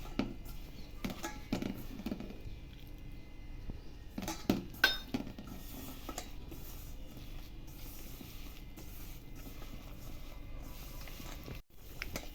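Sooji laddu mixture being stirred with milk in a metal pan gives faint, irregular scraping and soft clinks of a spoon against the vessel, with a few sharper knocks midway, all quiet and close.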